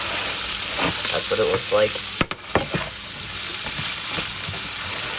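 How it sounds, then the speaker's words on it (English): Chopped onion sizzles and crackles steadily in a frying pan on the stove while breakfast is cooked, loud and close, with a brief remark spoken over it and occasional stirring clatter. "so now I'm going to add the chopped up onion."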